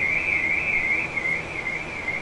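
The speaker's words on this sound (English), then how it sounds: "somebody's got an alarm going on." Somewhere in the background an electronic alarm sounds, a steady, wavering high-pitched tone that continues without a break and stays fairly faint under a hiss of room noise.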